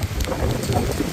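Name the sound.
heavy rain in a thunderstorm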